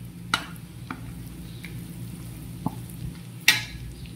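Garlic fries in a pan for Chinese-style chicken adobo, a quiet steady sizzle close by, broken by a few sharp clicks and scrapes as it is stirred, with no speech.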